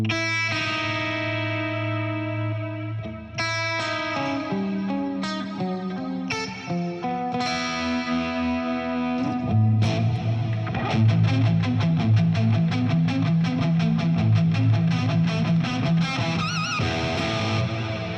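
Electric guitar through a HOF Mini Reverb pedal with chorus-like modulation on the reverb tail only, sustained chords and single notes ringing with a wavering, shimmering wash, then busier picked passages, distorted and effected, played alone.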